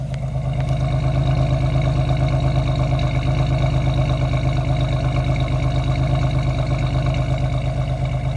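A 1990 Chevrolet Lumina with a 3.1 V6 and factory exhaust idles after a cold start, giving a steady, even low rumble that holds without change throughout.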